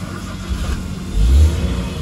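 Maruti Alto K10 car engine cranking and starting, a short burst of starter churn rising into a low engine catch and rev, heard close up.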